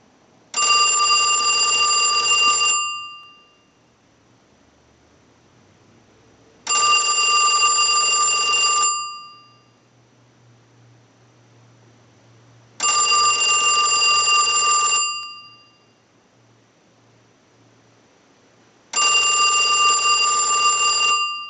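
A Western Electric 234G payphone bell rings in four long bursts, each about two seconds, separated by regular silent gaps of several seconds.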